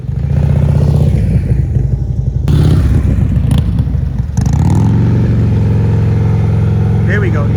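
A Harley CVO motorcycle engine blips and holds its throttle through slow-speed turns during riding practice, a loud mid-pitched rumble that surges and settles several times, with a person talking over it.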